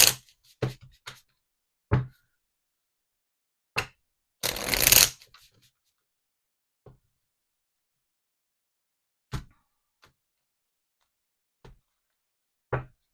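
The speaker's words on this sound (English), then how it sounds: "let's get the timing cards" Timing cards being shuffled: a short riffle burst amid scattered sharp card taps and snaps, close and quiet.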